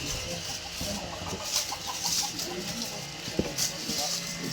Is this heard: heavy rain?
no